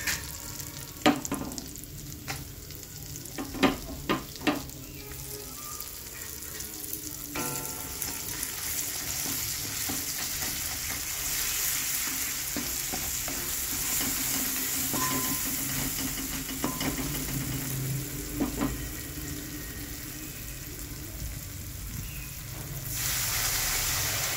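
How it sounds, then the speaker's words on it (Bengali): Ground spice paste with turmeric frying in oil, a continuous close sizzle with clattering stirs and scrapes of a spatula early on, settling into a steady loud hiss throughout. "ওই মশলাটা আমি তেলের মধ্যে দিয়ে দেবো, হলুদ গুঁড়ো দেবো, দিয়ে ভালো করে কষিয়ে নেবো।"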